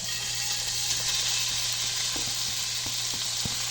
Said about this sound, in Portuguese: Já vou colocar a linguiça toscana aqui para dar uma fritada